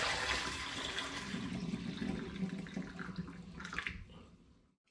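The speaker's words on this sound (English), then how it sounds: "the liquid has cooled a little bit, not fully, but enough for me to pour it into the demijohn" Warm homemade apple mead pours into a glass demijohn with a continuous splashing, gurgling rush of liquid that fades and trails off after a few seconds.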